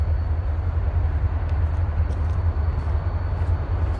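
A CSX military train passing, a heavy continuous low rumble with steady rolling noise, loud and close, with a few faint higher clicks and no talking.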